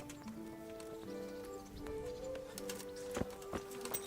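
Horse hooves clip-clop in Kingdom Come: Deliverance as a rider sets off, a steady soft clatter under music, with a couple of sharper knocks near the end.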